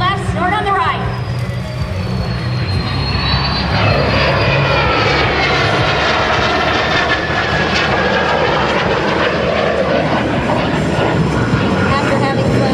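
A pair of MS-760 jets sweep past at an airshow, their engine roar loud and continuous with a rising and falling whine as they close in and pull away, while a commentator talks over it.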